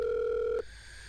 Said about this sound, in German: Ich ruf mal Yusuf an